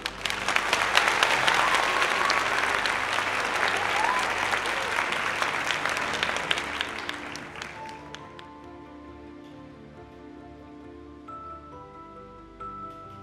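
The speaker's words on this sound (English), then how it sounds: "Round of applause." Dense round of applause from a crowd, loud and sustained for several seconds before thinning out and fading into quieter background tones.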